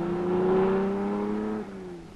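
Triumph TR5 sports car engine revs up and holds a strong, steady tone, then the pitch drops slightly as the throttle eases, heard close and alone without talk.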